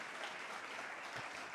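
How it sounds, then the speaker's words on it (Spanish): A church congregation applauds in a brief, quiet burst of steady clapping that sounds fairly distant, with no voices over it. "Damos a todos un fuerte aplauso."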